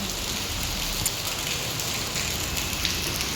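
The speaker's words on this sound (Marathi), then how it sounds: "सो गाईज आता पण पाऊस चालू आहे" Steady, dense downpour of heavy rain hissing on surfaces, continuous and fairly loud throughout with a few brief louder drop hits and no voices.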